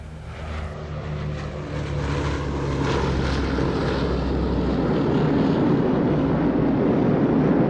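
A formation of Boeing B-17 bombers climbs with their piston engines running, a steady droning roar that swells and stays loud and dense throughout, with no voices.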